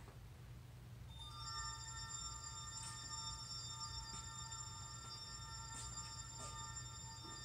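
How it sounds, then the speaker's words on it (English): A Zebra RFD 2000 RFID reader sounds as it picks up tags: after a second of low rumbling room noise, faint steady electronic tones start and hold, with soft periodic blips on top. "You'll hear a sound as it picks up the RFID tags"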